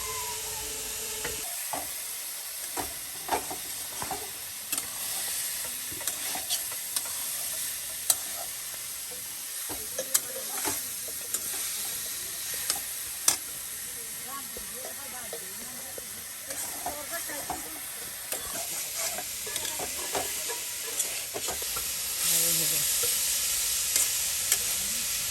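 Food fries in a pan with a steady, hissing sizzle for about 25 seconds, broken by repeated clicks and scrapes of stirring.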